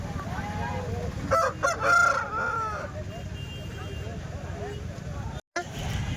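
A large native rooster crows once at moderate distance at a weekly country-chicken market in Kadiri, rising and falling over a steady background hum, with some faint voices around it.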